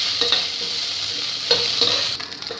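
Curry leaves fry in hot oil for a carrot poriyal, a steady close sizzle with crackling pops and the scrape of stirring throughout, and no voices.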